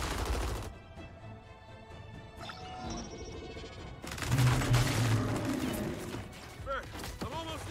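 Gears 5 combat gunfire crashes in as loud bursts and impacts, with a quieter stretch in the middle. Game voices and music sit under the shots.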